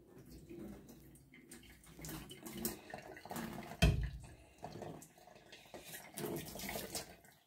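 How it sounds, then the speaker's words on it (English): Boiling water from a kettle is poured into a kitchen sink, giving an uneven, splashing gush with a few sharper spatters, fairly quiet and close, with no talking. "Sluice with boiling water just to kill any germs."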